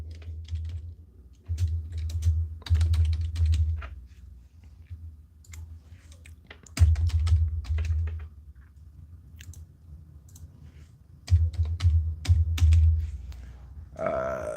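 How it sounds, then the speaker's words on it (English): A computer keyboard is typed on in three separate bursts of quick, close keystrokes with quieter gaps between them, and a short unrelated sound comes right at the end. "I'm typing."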